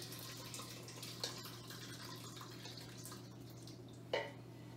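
Goat cheese curds and whey are poured slowly into a cheesecloth-lined strainer set inside a bowl, giving a faint, steady trickle with two brief, louder splashes, close and quiet.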